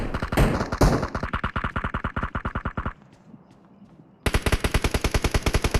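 Automatic gunfire in the PUBG Mobile video game comes as a loud, rapid burst of shots, a brief quiet gap, then another fast, sharp burst.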